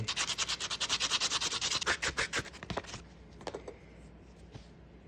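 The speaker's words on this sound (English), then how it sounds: "we're gonna sand with some 220 grit sandpaper. Sand those cut edges down." A cut US penny's edges are rubbed on 220 grit sandpaper, producing rapid rhythmic rasping strokes for about three seconds, then slower scattered scrapes trailing off.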